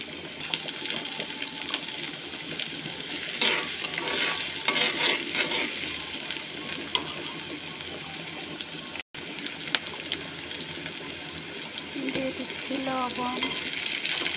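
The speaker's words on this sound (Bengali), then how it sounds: "প্রথমে দিয়ে দিচ্ছি তেল, তেল গরম হলে দিয়ে দিচ্ছি পেঁয়াজ কুচি" Chopped onions sizzle steadily in hot oil in a pan, a continuous crackling hiss with a few stirring scrapes, for a bitter gourd and prawn fry.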